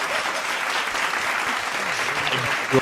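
Applause from a crowd, a dense, steady wash of clapping that holds evenly throughout, with some voices faintly mixed in near the end.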